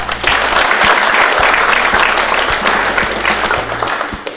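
A crowd at a Wellington Phoenix football club season launch applauds player number 16, Louis Fenton, in loud sustained clapping from many hands filling the room, with no talk over it.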